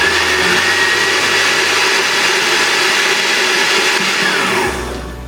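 A blender whirs loud and steady close by as it mixes a Jamaican shake with grated nutmeg, then winds down near the end, with no talk.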